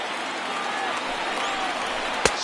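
A baseball stadium crowd of over 31,000 rising to its feet in a video game, a steady broad roar of cheering and applause under a commentator's voice, with a sharp crack near the end.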